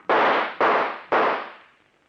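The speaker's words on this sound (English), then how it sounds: "All right, then I'll shoot." Three loud gunshots from a 1940s radio drama, evenly spaced about half a second apart, each a sharp close crack with a short decaying tail, alone with no voices.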